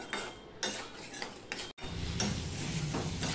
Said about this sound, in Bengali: প্রায় 1 মিনিটের মতন ডালটা দিয়ে আমি কষিয়ে নিয়েছি।